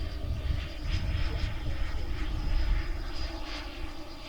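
A twin 90mm HSD ME-262 model jet flies at a distance, producing a faint, steady whooshing engine drone with a thin high whine, level throughout with no voices.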